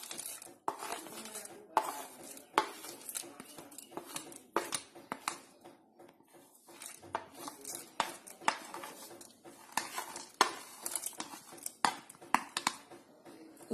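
A spoon stirs boiled milk with chopped almonds, raisins and pistachios in a pot, giving sharp, irregular scrapes and clinks against the metal over a quiet background.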